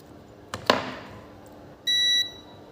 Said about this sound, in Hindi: यहाँ पे बजर आ रहा है